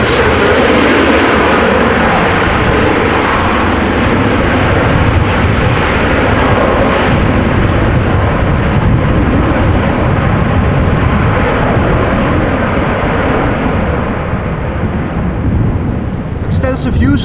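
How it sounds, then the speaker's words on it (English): Loud rumbling roar of a KLM Boeing 737-800 landing at Amsterdam Schiphol in stormy conditions with heavy thrust reverser use, sustained and dense, with wind noise and talk over it. "Extensive use of the reverser there by KLM flight 1474, 737-800 returning from Glasgow"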